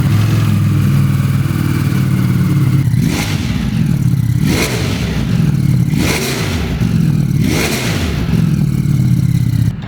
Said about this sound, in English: we're gonna start her up one last time with the stock exhaust. When she warms up, give her a few revs.